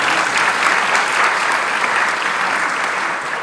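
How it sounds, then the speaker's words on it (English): A meeting audience bursts into loud, steady applause, dense clapping sustained evenly from start to finish with no one speaking over it. "let's clap for that"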